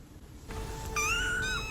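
A cat meows twice in quick succession from a scene in Harry Potter and the Order of the Phoenix, with rising, whining calls over a steady low room hum. The meows sound close and fairly loud.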